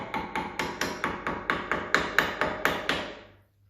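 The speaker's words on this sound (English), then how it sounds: "put it on, just a little hammer" A light hammer taps metal about a dozen times in an even rhythm, each strike bright and ringing, close by, then fades out; fitting a 10th-century-style seax hilt.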